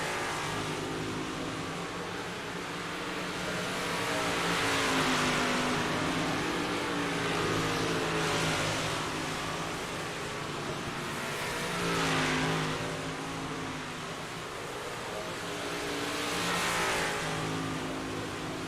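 Race cars circling the track in the iRacing simulator, a steady engine drone with repeated swells as cars rev and pass, loud and constant throughout.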